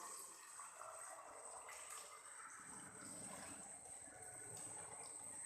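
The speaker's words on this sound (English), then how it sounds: "Now, I am going to pour water to this bottle." Water pours steadily into a plastic bottle pierced with several holes, a continuous trickling, splashing wash that runs alone throughout, moderately close and fairly even in level, with a faint steady high whine in the background.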